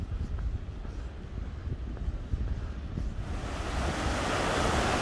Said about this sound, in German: Das ist noch meine heutige letzte Aufnahme von dem Bach.